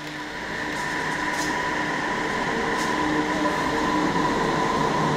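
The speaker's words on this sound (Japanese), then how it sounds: "電車が参ります。" A train rumbles steadily into a station platform in Japan, a continuous loud mechanical hum with faint hiss and brief high squeals, no voices.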